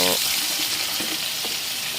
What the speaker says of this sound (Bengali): প্রথমে আমি আলুগুলিকে ভালো করে ভেজে নেব